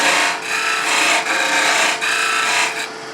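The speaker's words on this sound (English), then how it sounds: "Now we're going to come in and take that peeling cut." A wide woodturning tool takes a peeling cut on a spinning lathe, arcing toward the centre, making a loud, bright rasping shear that rises and falls in several close strokes.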